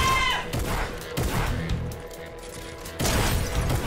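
Heavy sniper rifle shots in a video game: a few loud, sharp cracks with booming tails, one near the start, another just after a second, and a final blast near the end.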